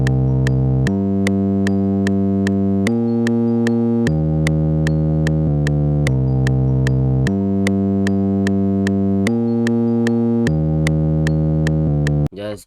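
Chill synth melody carrying a bell-like tone, steady stepped notes in a repeating phrase with reverb and chorus, loud and upfront with no talking, ending in a brief tail.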